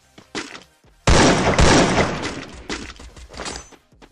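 Close, sustained automatic gunfire in the shooter game Free Fire, a loud continuous burst that tapers into scattered shots, with faint voices around it.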